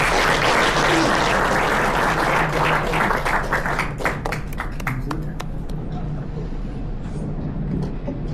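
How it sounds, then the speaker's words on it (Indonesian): Applause from an audience at a Perduki Chapter Batam community event, thick and loud at first, then thinning into scattered individual claps that fade out under a low hum of the room. "Kita berikan dong sekali lagi tepuk tangan yang mulia"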